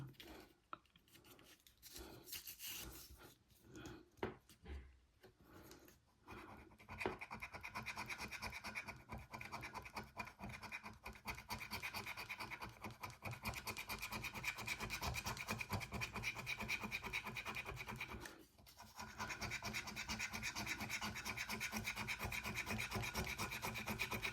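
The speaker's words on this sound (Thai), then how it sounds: "ขูดหมดเลยว่ามีเท่าไหร่บ้าง" A French scratch-off lottery ticket is rubbed hard with a coin, a close continuous rasping scrape that starts in short strokes and then runs steadily, with a brief pause near the end and occasional soft talking.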